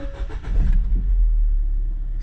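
A car with a failed EVAP system cranks and catches, then settles into a loud, steady low rumble that keeps running to the end.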